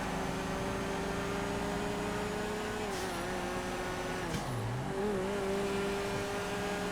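A Stinger GT in a GTA FiveM street race drones continuously with its engine rising and dipping in pitch as it revs and shifts, a steady near roar without talk.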